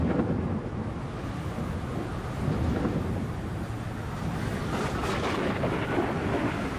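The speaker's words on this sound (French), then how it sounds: "le tonnerre gronde." Deep, continuous thunder rumbling through a storm at sea, with steady broadband wind and rain noise filling the background at an even, loud level for several seconds, no voices.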